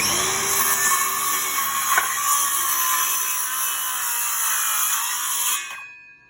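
A circular saw set to a 1.5-inch depth cuts notches into wooden posts for an elevated floor, a loud steady high whine that runs continuously for several seconds and then winds down.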